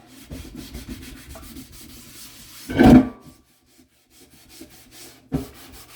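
The scrub side of an ENJO sponge rubs hard across dishes in short scouring strokes, one louder burst midway, with no talk over it.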